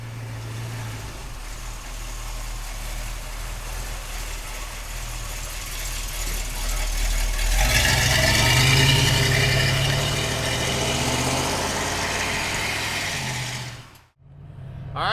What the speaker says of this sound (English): Let's take a 72 Chevrolet pickup truck for a ride